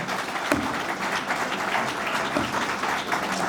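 An audience claps steadily after a talk, with a thick, continuous wash of applause at moderate distance and a few sharper individual claps standing out.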